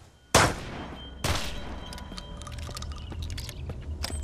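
Suppressed gunfire in the survival game Mist Survival: two sharp, fairly loud shots about a second apart, each trailing into a lingering echo, followed by quieter clicks and small game noises with no talking.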